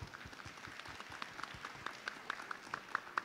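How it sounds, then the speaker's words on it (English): An audience claps for the panel speakers at an economic conference, a light scattering of applause with distinct individual claps growing slightly sharper toward the end, fairly quiet and without talking. "let's put our hands together for our panel speakers"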